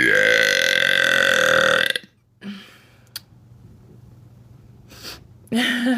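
A loud, drawn-out human burp lasts about two seconds, followed by quiet breaths and small mouth sounds, then another loud vocal sound at the end.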